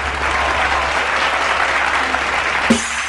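Audience applause at a live music show, a dense steady wash of clapping from a crowd that holds evenly throughout, with a brief tone near the end.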